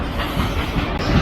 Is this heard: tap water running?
no